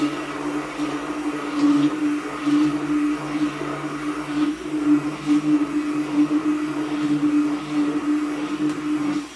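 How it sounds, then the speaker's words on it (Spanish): An electric blender mixes a lassi drink with a loud, steady droning hum that swells and dips slightly in rhythm, running without pause for over nine seconds and with no talk over it. "Vamos a batirlo."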